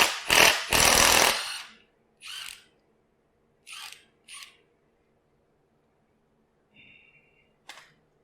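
A power tool works the last crankshaft pulley bolt on a GM 3.6L V6 from an Acadia or Traverse SUV: two loud, close, rattling bursts up front, then several shorter, quieter bursts spaced apart, with no talking.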